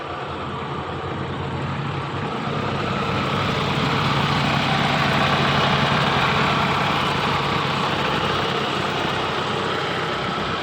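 A white 1998 Toyota Tacoma pickup fitted with a Prado engine idles nearby, giving a steady low rumble with an even, unchanging drone throughout and no talking.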